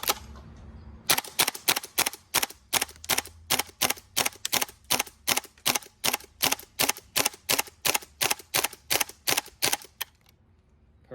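A gas blowback FAMAS airsoft rifle fires about thirty sharp, evenly spaced shots in a steady semi-automatic rhythm, each a crisp snap with a mechanical clack, close and loud, then stops.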